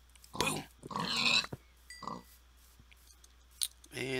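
A pig in the video game Minecraft gives several short oinks and grunts, close and fairly clear, interleaved with a person talking.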